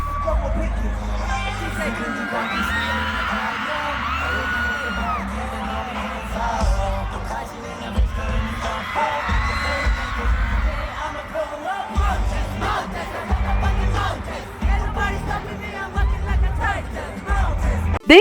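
Crowd at a dominATE tour concert in Mexico City cheers and yells over loud live music, a dense roar of voices with whoops rising and falling throughout.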